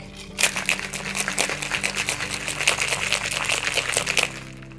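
A cocktail shaker is shaken hard with lemon and lime juice, sugar and ice, a dense, steady rattle of ice and liquid sloshing continuously at close range.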